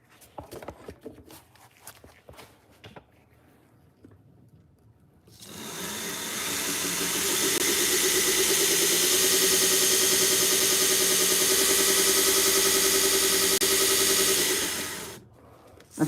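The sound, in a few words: 1x30 belt sander sharpening Chicago Cutlery knives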